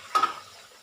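Unmarinated duck meat hits a hot pan in a home kitchen, giving a short burst of sizzling and clattering that fades into a quiet, steady frying hiss.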